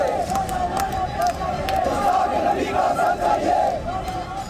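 A dense crowd of hundreds of protesters in Udaipur chants beheading slogans in unison, the massed voices loud and continuous with rhythmic surges, close and filling the whole stretch.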